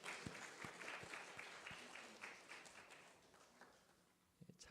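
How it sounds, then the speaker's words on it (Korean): A church congregation gives a round of applause during a Sunday worship service, welcoming a newly introduced member; moderately loud, sustained clapping from many hands fills the room and then tapers off. "박수 한번 하겠습니다"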